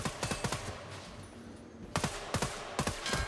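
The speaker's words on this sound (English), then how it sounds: "I'll try and rapid fire and show you the recoil." Rapid gunfire from a video game weapon, with short bursts of sharp close shots, a brief pause, then several more quick volleys.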